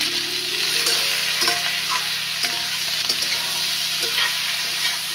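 Zucchini curry seasoned with salt and turmeric is stir-fried, a constant close sizzle broken by repeated scraping and clacking of a spoon against the pan.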